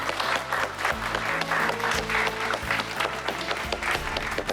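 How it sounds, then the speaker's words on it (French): Wedding guests applauding at a celebration, a dense round of clapping heard under loud music with a strong low beat, continuing for several seconds. "Allez, applaudissements."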